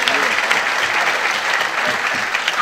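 Steady, dense applause from an audience at a public meeting in Volos, a continuous wash of clapping with a faint voice underneath.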